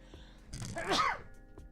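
A single sharp sneeze bursts out at close range, loud and brief, with quiet room noise before and after.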